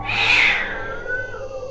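A black cat's single drawn-out meow, used as a horror-story sound effect, starts loud and slides downward as it fades, heard alone over a low steady hum.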